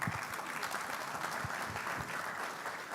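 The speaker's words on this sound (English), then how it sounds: "Please give our panelists another round of applause." An audience applauds panelists at an energy industry conference, with steady, moderately distant clapping that continues throughout and has no talking over it.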